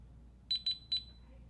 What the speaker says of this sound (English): you'll notice that it's done correctly if you hear the keypad beep at you twice